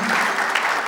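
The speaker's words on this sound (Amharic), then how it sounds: "አጨብጭቡ።" Applause from an audience at a book auction, a steady dense patter of clapping sustained through the brief moment with no gaps.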